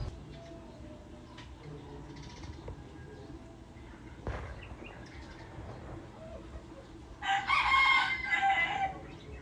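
A flock of birds with chickens and a rooster outdoors: faint clucking and background noise, then a loud rooster crow near the end, with a sharp knock midway.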